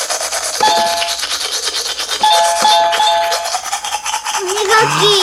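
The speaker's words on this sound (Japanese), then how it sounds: "Brushing teeth." A toothbrush scrubs with quick, rhythmic back-and-forth strokes, loud and close, with faint ringing tones mixed in toward the end.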